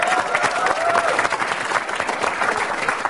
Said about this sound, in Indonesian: Oke, tepuk tangan sekarang buat Cak Lontong.